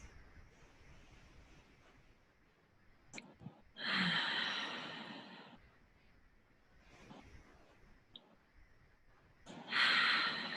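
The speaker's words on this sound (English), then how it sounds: "just cup your hands near your face and breathe through your nose" Two deep breaths are drawn in through the nose with hands cupped near the face, each a rushing inhale of a second or two, close and clear, separated by quiet pauses and a faint sniff.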